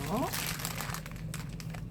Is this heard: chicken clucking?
no